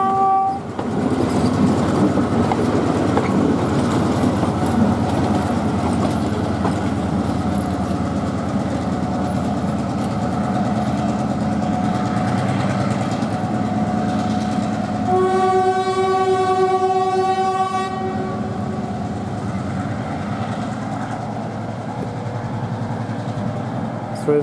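A train crosses Nine Arches Bridge in Ella, Sri Lanka, with a steady loud rumble and rail clatter throughout and a sustained horn blast partway through, faint voices around it.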